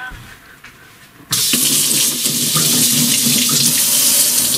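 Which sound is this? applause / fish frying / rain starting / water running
water running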